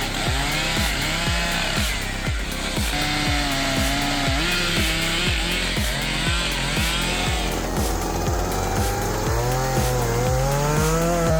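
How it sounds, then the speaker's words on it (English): Chainsaws, a Stihl MS 500i and a Husqvarna 395XP, cutting through large tree trunks while logging, a loud, close engine snarl that rises and falls in a steady rhythm of bursts. "The sharp saw blade was agile, easily cutting through large tree trunks."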